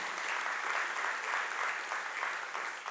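Audience applause at an investment forum, a dense, even wash of many hands clapping continuously at a moderate distance, filling the hall without any talk over it.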